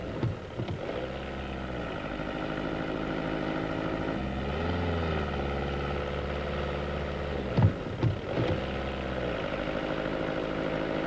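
A 1992 VW Golf 3 Ecomatic with a 1.9-liter catalytic-converter diesel engine runs steadily with a droning, rising tone as the throttle is pressed, close and continuous, with a couple of brief knocks near the end.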